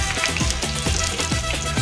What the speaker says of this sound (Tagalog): ating prito